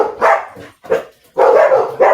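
Several dogs bark loudly and close by in three bursts of overlapping barking separated by brief pauses, the last burst longest, with no talking.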